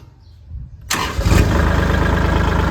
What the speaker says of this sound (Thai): จะฟังชมเสียงเครื่องครับ